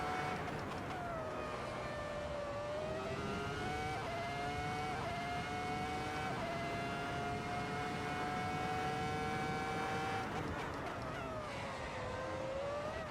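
A 2004 Formula 1 car in Assetto Corsa screams as its engine revs climb and hold, a loud high-pitched whine with a few gear-change dips and a final drop, steady and close, alone without voices.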